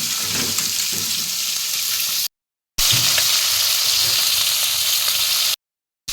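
Vegetables such as brinjal, onion and chilli fry in a little oil with a loud, continuous close sizzle and light stirring, broken by two short silent gaps.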